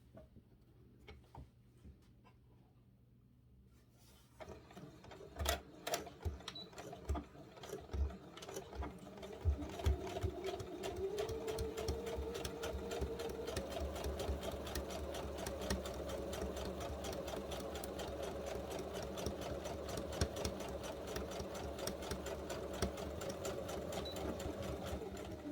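A sewing machine stitches fabric for a sewing machine cover, running in a steady, continuous mechanical whir after a few seconds of quiet handling and scattered clicks, with no talking.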